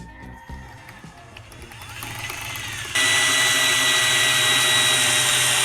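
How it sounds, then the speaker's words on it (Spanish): A power drill running at its fourth speed setting, a steady motor whine that grows louder and then jumps to a sustained high-pitched roar midway through, with no voices. "Ya vamos por el nivel 4 y a este taladro no parece importarle."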